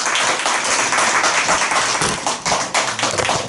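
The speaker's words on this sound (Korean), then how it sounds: "힘찬 박수를 맞이해 주십시오." Strong, loud applause fills a Korean evaluation forum hall as a lawmaker is welcomed to the stage, many hands clapping close and continuous, thinning slightly near the end.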